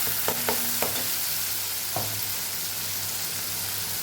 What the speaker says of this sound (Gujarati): મસાલાને સરસ સાતળી લેવાનો છે આપણે